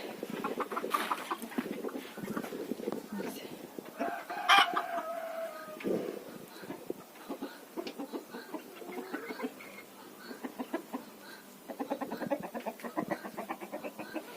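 Chickens cluck busily throughout, with a rooster crowing once partway through, close by and fairly loud, with no voices.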